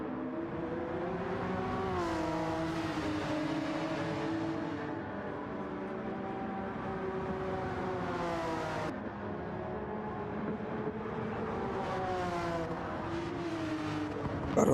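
Race cars roar around the track in Gran Turismo 7 during a Manufacturers Cup race, chasing a Pokémon-liveried Porsche. Engine notes stay loud and steady throughout, rising and falling through gear changes.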